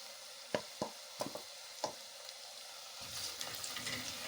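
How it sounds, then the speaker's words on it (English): Ginger and garlic frying in a pot of oil for pilau, with a soft steady sizzle, a few sharp scrapes and clinks of the spoon while stirring, and a louder bubbling hiss near the end. "I'll stir it very well."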